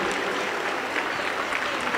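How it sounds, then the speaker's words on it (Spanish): A Pentecostal church congregation in Huancayo, Peru, applauds for a special offering with dense, loud, continuous clapping from many hands filling the room. "Aplauso para el Señor Jesús."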